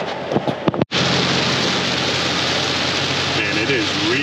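Heavy rain pours down outdoors near a forest, a loud dense continuous hiss after a brief moment of scattered sounds, with a voice speaking briefly over it.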